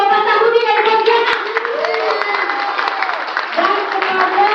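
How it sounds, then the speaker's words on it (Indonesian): Crowd applause at an Indonesian mineral product seminar, a steady clatter of clapping hands heard under a loud amplified voice that keeps speaking. "Boleh tepuk tangannya untuk Bapak Sahudi dari Pontianak."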